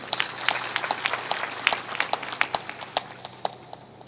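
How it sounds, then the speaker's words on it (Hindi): An audience applauds a saint at a religious discourse gathering, with many scattered hand claps that rise and fall in uneven bursts and are heard fairly close throughout. "ताली बजाओ इनके लिए"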